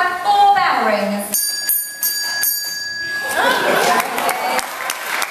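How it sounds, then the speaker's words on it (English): A parrot at a parrot show rings a small bell, several clear bright dings in a row, close and loud, with speech and crowd murmur around it. "Matilda, can we please have 4 bell rings?"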